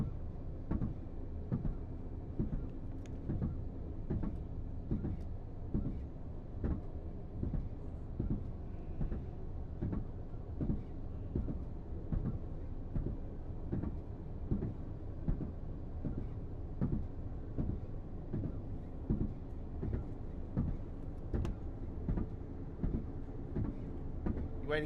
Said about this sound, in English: Waiting for a train to go through Mort and Hogg Street